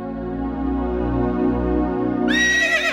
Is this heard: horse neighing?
yes